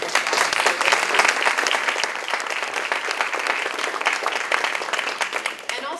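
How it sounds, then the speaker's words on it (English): Audience applause at a community college student pathways institute, dense sustained clapping from a room full of people, loud and continuous throughout. "So I'd love for you guys to give them a round of applause."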